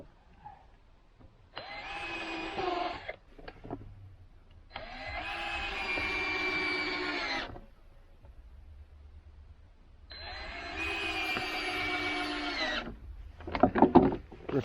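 Cordless power tools drill holes and drive screws into a wooden deck on a self-built cabin, with three long whirring bursts between pauses and a short rattling clatter at the end.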